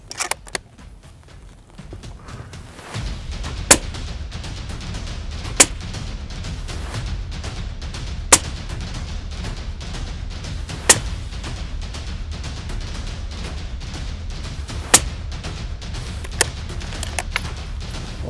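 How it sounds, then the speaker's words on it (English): Five consecutive rifle shots from a Tikka CTR in 6.5 Creedmoor ring out at an outdoor range as sharp, isolated cracks spaced several seconds apart over a steady low background rumble. "We're going to shoot at the left hand side target, 5 consecutive shots."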